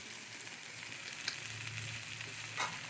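Okra deep frying in hot oil with chili powder, salt and coriander, a steady close sizzle and crackle running evenly throughout with no talking.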